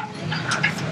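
A scared puppy whimpers aboard a boat in heavy wind, with high thin cries over a steady low rumble of gusting weather.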